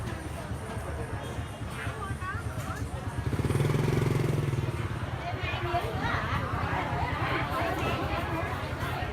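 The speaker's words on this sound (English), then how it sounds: "the motorbikes still insist on going down the aisle" Motorbike engines rumble past in a busy Saigon market aisle, one growing loud and close midway, over constant crowd chatter and voices.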